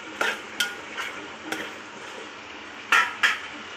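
A knife cutting brinjal (eggplant) in a South Indian kitchen, a handful of crisp, separate slicing taps on a board, near and fairly light, with pauses between the cuts and no talking.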